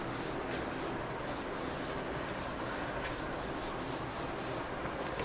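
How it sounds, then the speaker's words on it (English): Steady, continuous rubbing of a duster erasing writing on a classroom board, a dense rhythmic scrubbing held at even loudness throughout with no talk. "Okay, next I am rubbing this side only."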